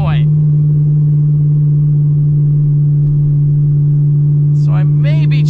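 A cammed C6 Corvette with a modified exhaust drones at a constant low pitch while cruising in a high gear, an unbroken loud hum that fills the cabin, with brief bits of someone talking at the start and end.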